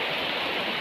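Heavy rain pouring steadily, a dense continuous hiss with no distinct drops, close and fairly loud, heard alone without talk.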